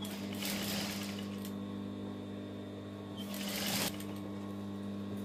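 A sewing machine stitches fabric for a summer top in two short bursts of rapid mechanical whirring over a steady low room hum.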